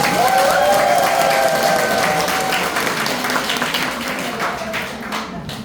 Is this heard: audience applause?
yes